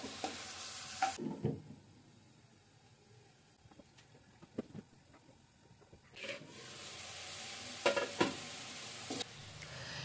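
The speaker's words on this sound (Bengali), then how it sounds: "এগুলো একটু সুন্দর মতো ভেজে কষিয়ে নেব তেলের সাথে" Garlic paste, ginger paste and onions fry in oil in bursts of quiet sizzling, with a calmer gap in the middle and occasional clinks of stirring.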